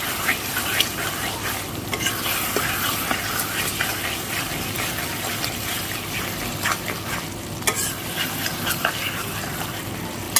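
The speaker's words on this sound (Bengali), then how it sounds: "একদম লো ফ্লেমেই কিন্তু কষে নিচ্ছি এটা আমি।" Mutton kosha with garam masala is stir-fried on a low flame in a pan, a steady close sizzle broken by repeated scraping and stirring strokes, with no voices.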